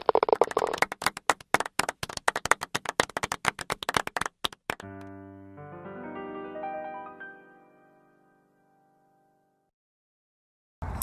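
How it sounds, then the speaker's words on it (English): A small group gives a golf clap, sharp separate hand claps in a quick uneven run for several seconds, then a sustained musical tone rings out and fades into silence. "join me in welcoming them in with a golf clap"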